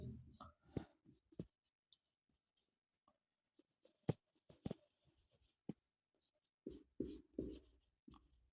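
Chalk or marker scratches and taps on a board during a classroom lecture on the history of Indian agriculture, sparse quiet strokes in short bursts with pauses between them, close and faint.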